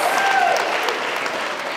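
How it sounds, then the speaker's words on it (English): A congregation claps enthusiastically at a church Lessons and Carols service, a dense, steady wash of many hands across the whole room, fairly loud and continuous without a break. "Let's have a little more enthusiasm behind that clap."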